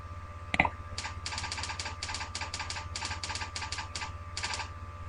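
An email address is typed on a computer keyboard in quick, close clusters of crisp key clicks, with one louder clack near the start and a low steady hum underneath.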